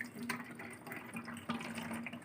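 Water pours into a plastic bottle pierced with four holes at the same height, a steady close trickle and splash with faint gurgling, no voices.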